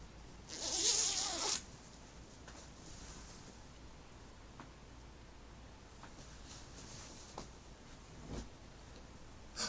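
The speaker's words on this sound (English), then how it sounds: "I'll show you the zip" A clothing zipper being pulled, a short bright rasp near the start followed by a few faint clicks and handling ticks against low hiss.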